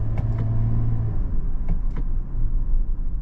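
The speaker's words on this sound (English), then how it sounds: "put this SUV in sport mode and then use the shifter to downshift" Toyota 4Runner SUV, a 2022 model, downshifting in sport mode, its engine a steady low rumble with brief rising revs, heard from inside the cabin with no talking.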